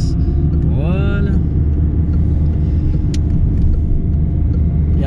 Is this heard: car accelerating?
yes